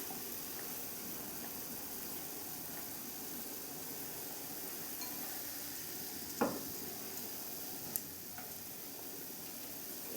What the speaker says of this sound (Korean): 조림장에 마늘하고 메추리알 넣어주시고 졸여주세요.